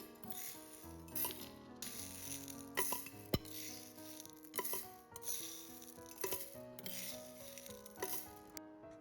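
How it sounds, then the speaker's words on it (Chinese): Toasted mung beans poured into a cup, a quiet clatter of small hard beans rattling and ticking against the container in short uneven bursts, close and faint with no talking. "接着把我們剛才炒香的綠豆倒進去"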